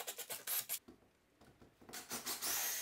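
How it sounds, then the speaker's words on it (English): A power drill grinds into drywall in short rasping bursts, pausing briefly in the middle before whirring and biting into the material again, loud and close. "Now I'm gonna drill."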